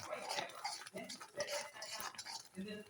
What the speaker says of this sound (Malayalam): ഉരുകി ഉരുകി ഉരുകി കട്ടിയാവുന്നിടം വരെ ഇളക്കിക്കൊണ്ടിരിക്കുക